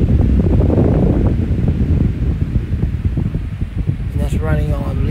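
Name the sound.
Lasko 9-inch electric fan running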